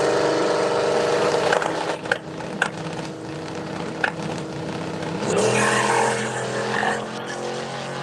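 A twin-turbo 1969 Chevelle at a drag strip, a loud, sustained engine roar with brief spikes, then a rising howl as the car accelerates hard and pulls away.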